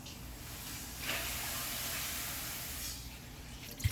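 Hot water rushing from a tap over cooking pans being rinsed after prep, a steady broadband hiss lasting a few seconds, close and moderately loud, with no voices.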